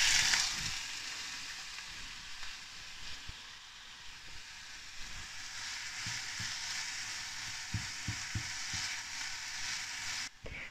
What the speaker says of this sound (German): Eine Zwiebel und eine Knoblauchzehe haben wir schon schön klein geschnitten und die brutzeln wir jetzt an.